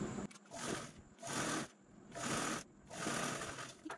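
A sewing machine stitches cloth over a zip in short bursts, four separate runs of rapid mechanical whirring with brief pauses between, fairly close and quiet.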